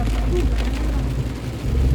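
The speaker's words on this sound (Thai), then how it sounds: "ใครมาช่วงฝนตกแบบนี้ก็ระมัดระวังนิดนึงนะ ลื่นได้" Rain patters on an Isuzu D-Max 2020 1.9Z manual pickup driving a wet coastal road, heard from inside the cab. A steady wash of drops over a low road and engine rumble continues throughout.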